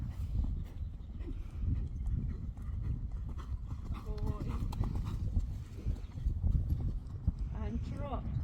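Rhythmic hoofbeats of a horse trotting at a steady pace during a riding lesson, with people talking nearby throughout.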